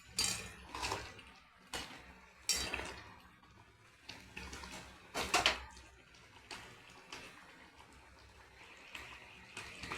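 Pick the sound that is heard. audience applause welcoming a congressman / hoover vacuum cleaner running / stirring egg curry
stirring egg curry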